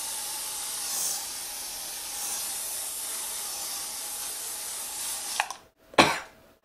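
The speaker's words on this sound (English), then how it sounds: "Step three, hairspray the shit out of your hair." Hairspray from an aerosol can is sprayed onto hair in a long, steady, close hiss lasting several seconds, then two short sharp bursts.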